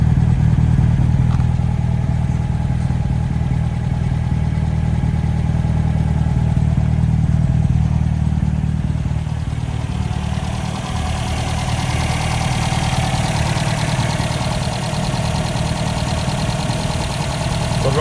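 A restored 1955 MG TF 1500 engine idles steadily and close by for the whole stretch, a low even rumble with light mechanical clatter, warmed up to about 50 degrees and running smoothly with no talk over it.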